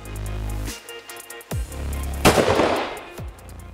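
Browning 525 Sporter shotgun shots fired at clay targets outdoors, three sharp loud blasts spaced about a second apart over a low background hum, the final one followed by a brief echoing tail.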